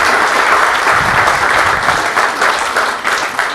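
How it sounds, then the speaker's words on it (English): Loud, close audience applause at a dedication ceremony for a wastewater treatment plant, dense continuous clapping filling the whole moment without talk. "She deserves a round of applause because she's been leading this effort."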